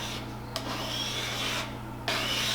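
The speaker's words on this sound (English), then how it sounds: "I just sand it" Wood surface being sanded by hand, a steady close rubbing rasp that runs continuously with two brief pauses, over a low constant background hum.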